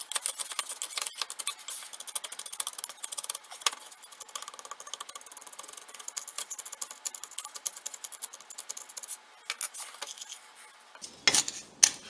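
Dried sourdough starter being crushed with a wooden spoon in a bowl: a dense run of rapid, close clinks, taps and gritty scrapes that ends in a few louder knocks, with no voice.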